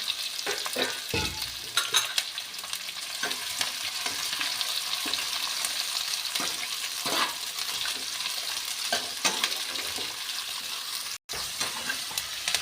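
Sliced onions and carom seeds sizzle in a pan for a capsicum sabji while being stirred repeatedly, with scraping strokes over a constant frying hiss and no talking.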